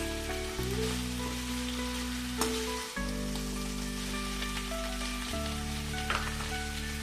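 Pirandai (adamant creeper) fries in a pan for a chutney, giving a steady close sizzle and crackle throughout with a constant low hum underneath.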